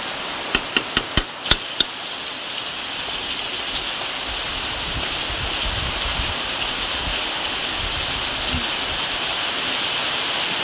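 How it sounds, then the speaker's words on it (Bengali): Heavy monsoon rain pours steadily during outdoor cooking, a constant hiss that runs through the whole stretch, with a quick burst of sharp knocks near the start. "হঠাৎ মাত্র বর্ষা চলে এলো"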